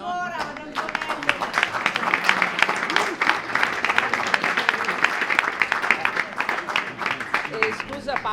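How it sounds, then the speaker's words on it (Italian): Audience at a theatre short-film festival in Padova applauds warmly for Antonello, dense steady clapping filling the room for about eight seconds, with scattered voices and a few shouts mixed in. "Un applauso ancora ad Antonello"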